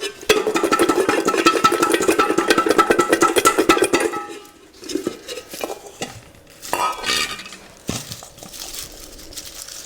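Garlic cloves rattle and clatter loose as they are shaken between bowls, a fast, dense knocking for about four seconds, then scattered lighter clinks and taps follow, close and fairly loud.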